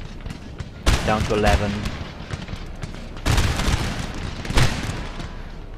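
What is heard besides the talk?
musket and artillery fire in the video game Napoleon: Total War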